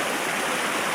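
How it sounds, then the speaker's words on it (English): Constant rushing wash of a small waterfall feeding a stream in a birch valley in Iceland in summer, dense and close with no gaps. "It's got a little waterfall."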